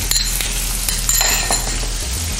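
Chopped garlic, ginger and dal fry in hot oil, a dense steady sizzle with light metallic clinks of a spoon against the pan throughout.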